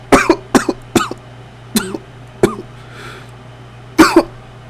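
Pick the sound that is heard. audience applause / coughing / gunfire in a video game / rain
coughing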